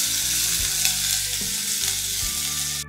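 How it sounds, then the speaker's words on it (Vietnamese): Garlic and shallots fry in oil in a pot with a steady, loud sizzle that holds evenly throughout, with no talking over it. "Cho vào mình phi hết luôn. Phi cho nó vàng thơm lên ha."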